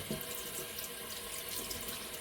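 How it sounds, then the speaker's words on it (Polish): Running tap water pours steadily into a sink as hands are rinsed during wet-shaving foam preparation, a continuous soft splashing stream with no voices. "Pozwólcie, że spłuczę sobie dłonie."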